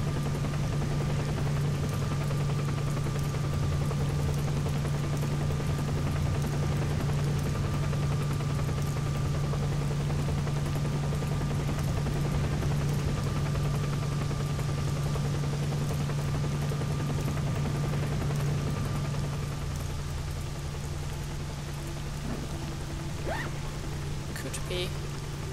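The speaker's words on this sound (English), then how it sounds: "The military helicopter that's supposedly taking over radar." Military helicopter in a video game droning steadily with a low rotor hum and constant engine whine, a continuous mechanical rumble holding a flat level throughout, with a voice talking over it.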